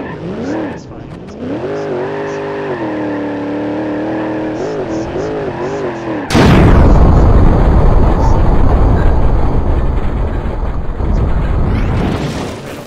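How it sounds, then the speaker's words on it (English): A car crash in the driving game BeamNG.drive: a steady engine note with shifting revs gives way to a sudden loud burst of crunching, grinding noise that continues for several seconds, with someone talking over parts of it. "I don't enjoy seeing people in huge car crashes, but this is fun."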